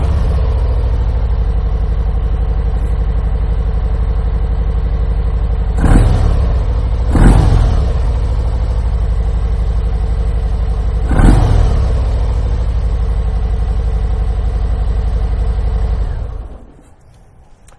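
A Harley-Davidson FXDR motorcycle on its stock exhaust idles loudly and steadily, then blips three sharp revs, two close together and one later, before the engine shuts off near the end.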